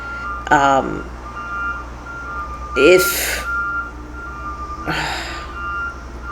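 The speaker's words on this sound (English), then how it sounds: "And there's like beeping in the background. It's like beeping at me." A steady high electronic beep tone runs throughout beneath a low engine hum, with a few voices or brief vocal sounds breaking in at intervals.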